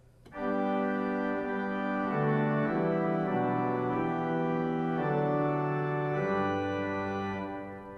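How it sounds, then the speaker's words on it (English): Full pipe organ chords with a two-foot stop adding a bright, shimmering upper register, sustained and slowly shifting harmonies played alone. "so I might add the two foot stop, which adds quite a bit of upper register"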